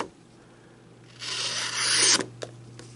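A Kershaw Outlier knife blade slicing through heavy-duty stock paper, a rising rasping scrape that swells over about a second and ends sharply, followed by a couple of faint ticks.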